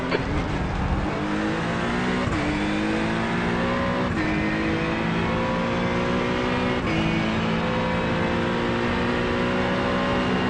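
An Acura NSX GT3 race car at Thruxton Circuit roars close up from the cockpit, its engine rising steadily through the revs with several sharp gear shifts punctuating a loud, continuous drone.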